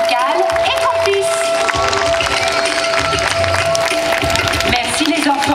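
A crowd at a dolphin show at Parc Astérix applauds in a sustained burst of clapping with some cheering, while voices carry on over the noise.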